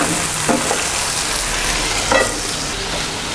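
Capsicum pieces fry in a pan with a steady sizzle, punctuated by a couple of soft scraping stirs, close and continuous.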